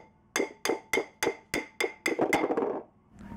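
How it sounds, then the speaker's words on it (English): Eight sharp metallic hammer taps in a steady rhythm, close by, ringing against a rusted brake hub and rotor of a 2009 GMC Canyon, followed by a short scraping rattle and quiet. "so I'm gonna give it a light tap with a hammer"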